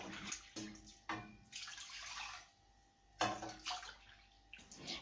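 Water pouring and splashing into a pressure cooker of rice and split mung dal in several short bursts, fairly close and soft, with brief pauses between pours.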